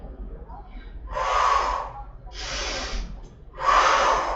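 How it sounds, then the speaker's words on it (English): Heavy breathing during a Pilates mat exercise, three long forceful exhales spaced about a second apart, close and breathy, with quieter gaps between them. "There's your breathing right there for you."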